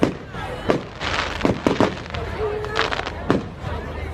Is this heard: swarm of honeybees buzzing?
no